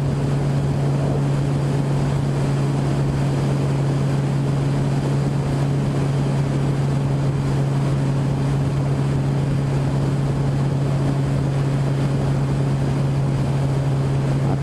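Steady engine drone of a Honda CB 1000R motorcycle cruising at 4000 rpm on a road trip, a constant loud hum mixed with rushing wind noise, unbroken throughout and with no voices.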